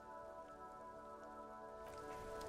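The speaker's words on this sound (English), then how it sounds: "This rain will not let up anytime soon." Steady rain falling in the video game Disco Elysium, a continuous even hiss of drops on surfaces, constant and fairly soft with no voices.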